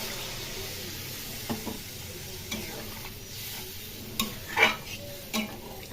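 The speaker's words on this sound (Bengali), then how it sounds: "কষানো হয়ে গেছে, এবার জল দিয়ে দিলাম।" Water poured into a pan of sautéed Bengali fish curry with cauliflower and potato, a soft bubbling simmer at close range broken by a few light clinks of a utensil against the pan.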